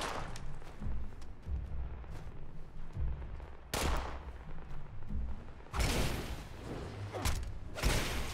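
Gunshots in Fallout 76, repeated loud cracks and heavier booming blasts scattered across the stretch, some close and sharp, others rolling, with no talking.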